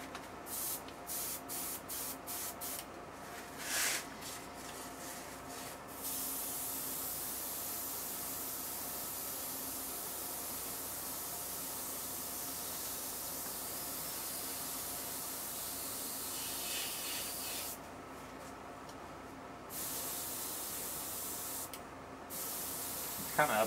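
An airbrush sprays House of Kolor base coat reduced 1:1 with reducer, a steady close hiss running in long passes, with short bursts of sputtering pulses near the start and toward the end.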